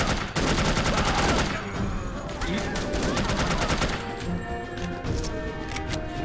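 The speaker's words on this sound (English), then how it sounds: "Maybe just need to fire a couple of warning shots." Gunfire rings out in the No One Lives Forever video game: a loud, dense burst of rapid shots with crashing echoes, then scattered shots over a busy game soundscape.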